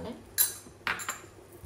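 A frying pan holding hake and clams in green sauce is shaken by hand, giving three brief metallic clinks and scrapes spaced apart over a quiet kitchen background.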